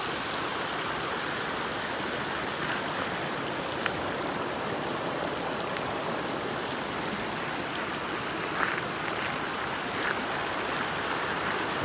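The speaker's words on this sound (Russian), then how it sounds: "Вот у нас ручей" A clear mountain stream runs down from the mountains of the Pamir beside a roadside, its water rushing in a steady, broadband wash that stays close and continuous throughout, with no voices.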